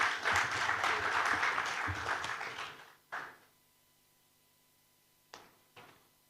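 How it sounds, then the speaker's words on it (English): Audience applause at a LaFarge Africa clean-energy business conference greeting the company's CEO, a dense burst of clapping that fades out after about three seconds, followed by a few isolated knocks in near silence. "A round of applause for him, please."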